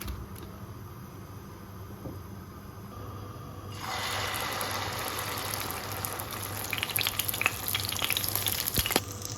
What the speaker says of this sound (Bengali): রাতের তরকারি আছে, তারপরে একটা ডিম ভেজে দিই